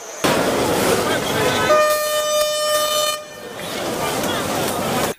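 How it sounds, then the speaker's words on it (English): Train horn sounding as a train approaches a rail line through a busy market, a loud sustained blast over rumbling rail noise and crowd chatter, with people talking. "they will hear the sound from the far and adjust and leave the rail line, and the train will pass"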